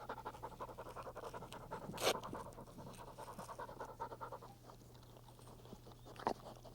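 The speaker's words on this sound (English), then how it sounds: "Buster's a really talented little dog." Buster, a small dog, pants rapidly and continuously up close, with a couple of brief sharp clicks or bumps breaking the rhythm and a low steady hum underneath.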